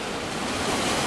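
Sea waves wash ashore at dusk on a holiday evening, a steady broadband rush of surf heard alone without talk.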